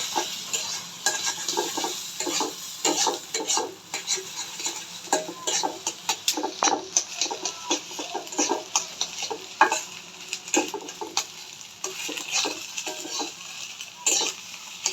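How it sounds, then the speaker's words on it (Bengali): Egg and noodles stirred in a frying pan: busy, irregular spatula scrapes and knocks against the pan repeat throughout over a constant hiss of frying, close-up, with no speech. "এইভাবে করে আপনাদেরকে নেড়ে নিতে হবে সুন্দর করে"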